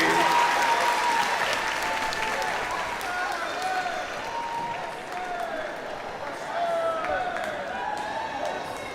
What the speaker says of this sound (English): please stand and give the graduates another well-deserved round of applause